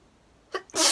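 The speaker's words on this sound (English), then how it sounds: "I'm gonna sneeze." A short intake of breath followed by a single sharp, close sneeze at the very end.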